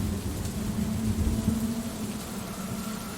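A thunderstorm with steady rain, a dense continuous wash of falling water under a low rumbling swell of thunder, fairly loud and unbroken, with no voices.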